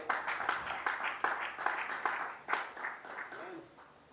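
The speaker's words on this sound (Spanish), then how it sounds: "Dale ese aplauso al Señor" A church congregation claps in a quick, rhythmic round of applause during a worship service, with a voice speaking over the clapping.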